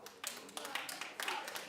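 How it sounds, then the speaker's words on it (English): Sparse, hesitant applause from a few members of a talk-show studio audience, scattered claps in short uneven bursts with a voice partly heard around them. "And you're clapping reluctantly."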